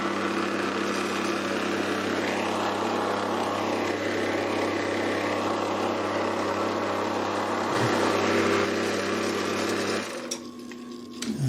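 A metal-cutting bandsaw or hacksaw cuts metal stock with coolant, giving a steady, loud machine drone with tonal hum that runs continuously, then drops off near the end as the machine stops.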